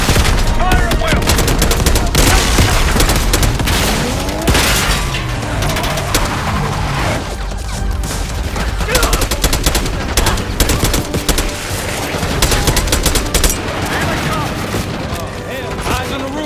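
Dense, continuous gunfire from the Call of Duty Black Ops 6 video game during an assault on a palace gate, with rapid bursts, booms and crashes layered loudly throughout, mixed with shouted voices.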